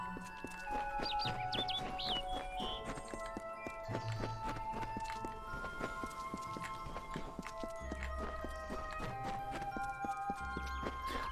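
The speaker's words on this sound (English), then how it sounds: "Man, the footsteps in this game are good" Footsteps in the game Kingdoms of Amalur: Re-Reckoning tread steadily over a layered fantasy music score, the crisp footfalls continuing for about eleven seconds at moderate loudness.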